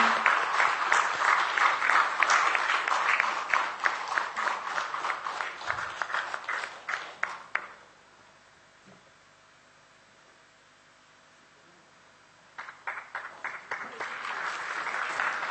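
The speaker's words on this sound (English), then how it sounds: "Let's welcome them with a huge round of applause." An indoor lecture audience applauds loudly and steadily for about eight seconds, falls silent for several seconds, then breaks into another round of clapping.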